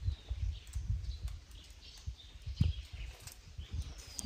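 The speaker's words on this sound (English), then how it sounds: "You can hear only the birds" Faint birdsong in the distance in the countryside of Chhattisgarh, India, a few thin chirps and whistles over quiet outdoor ambience with soft low thumps nearby.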